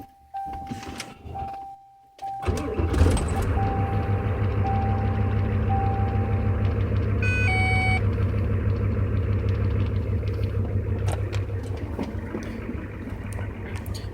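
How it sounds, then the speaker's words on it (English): A truck fitted with an Arduino oil controller is started: electronic beeps, then the engine cranks and catches, settling into a steady low idle with a brief chime partway through. "So now I'll start the truck and show you how this thing functions."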